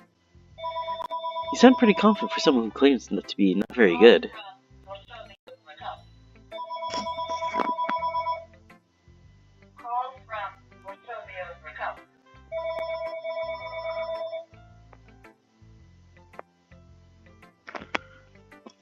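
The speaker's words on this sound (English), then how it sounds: "That was my home phone going off." A home telephone rings in repeated bursts of warbling electronic tones, loud and close, while a person talks over and between the rings.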